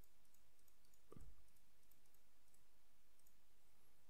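A single soft computer mouse click, heard while editing a poster in the GIMP image editor, lands once near the start, brief and fairly close, over a faint steady room hiss with no talking.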